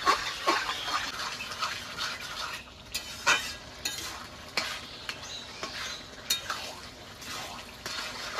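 Bottle gourd cooked with fried prawns is stirred in a pan, producing irregular close scrapes and knocks of a spoon over a faint wet sizzle, with no voices.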